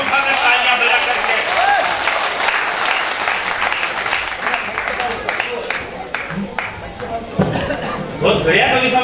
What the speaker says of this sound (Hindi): एक बार दोनों हाथ ऊपर उठाकर तालियां बजा करके